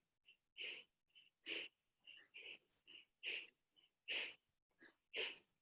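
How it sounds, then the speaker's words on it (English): Fast, shallow breaths taken deliberately while sitting up, a rapid series of short, breathy sniffing inhales and exhales, close and quiet with brief gaps between them. "try intentionally speeding up the breath. So maybe sitting up a bit and kind of faster, shallow breath."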